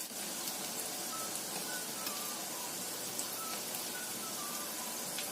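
Steady fine sizzle and crackle of snacks frying in hot oil until golden, a continuous close hiss with scattered tiny pops throughout and no talking.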